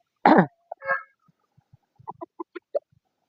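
A Lemon Red Hat rooster from a Texas line gives a loud close crow, then a few shorter clucks and soft throaty calls in a quiet yard.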